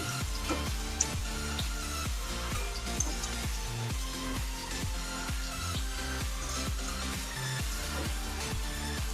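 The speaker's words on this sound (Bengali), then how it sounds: "এবার আমি আলুগুলো দিয়ে দিচ্ছি একটু নুন দিলাম আর একটু হলুদ ভালো করে আলুটা ভেজে নেব" Potatoes with salt and turmeric frying in hot oil, a steady close sizzle and crackle with light stirring throughout and no talking.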